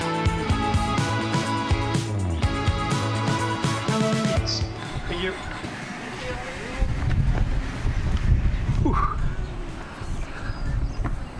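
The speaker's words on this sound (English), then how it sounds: "Just a bit windy, a bit rainy in Wellington today." Gusty wind in Wellington, New Zealand buffets the microphone with low rumbling bursts, rising and falling, while music plays at first before fading out.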